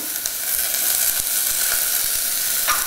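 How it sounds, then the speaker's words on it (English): Half an onion and a stalk of celery sauté in olive oil in a pre-warmed pan over medium-low heat, giving a steady bright sizzle with a few soft stirring taps and no voices. "I'm just going to saute it for a few minutes until they turn a little translucent."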